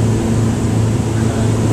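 A 2008 Formula boat powered by a Yanmar diesel engine cruises at 3,500 RPM and about 23.5 knots, its engine a loud, steady, deep drone with a constant hum and rushing wash throughout.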